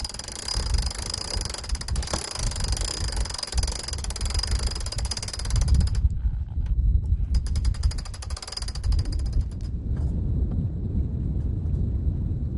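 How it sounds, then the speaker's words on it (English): A sailboat winch is cranked to haul in the main sheet tight during gybe control, giving a loud, rapid ratcheting clatter over heavy wind and water rumble, pausing briefly before resuming. "Next, I pull in the sheet, the main sheet, crank it in tight."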